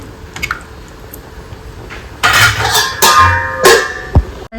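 Water poured into a pot of meat curry cooking with a large tomato and ripe chillies, giving a few short splashing, gurgling bursts close up with liquid dribbles between them, and no speech.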